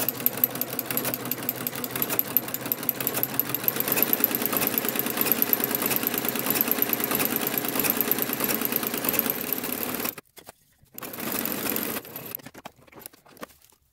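A sewing machine runs continuously as it stitches ruffles on fabric, a loud, close, rapid mechanical chatter that cuts out abruptly, restarts briefly, then stops.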